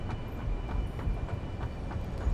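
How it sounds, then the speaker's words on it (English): A train pulling into the primary rail station on Isla Nublar in a Jurassic Park video game, a steady rumbling roll with soft rhythmic clacks of wheels, close and continuous with no voices. "There's my train."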